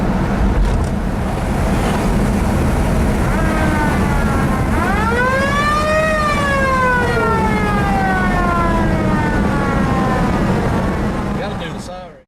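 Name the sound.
siren on a car at Mt Airy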